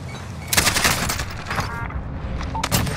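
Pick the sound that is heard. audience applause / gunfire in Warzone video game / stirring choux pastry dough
gunfire in Warzone video game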